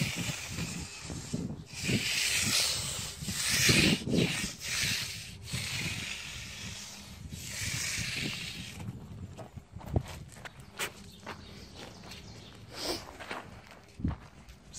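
Magnesium float passes smoothing wet concrete on a patio or sidewalk, a steady hissing, sanding rub in long close strokes, fading to quieter scattered scrapes and taps toward the end.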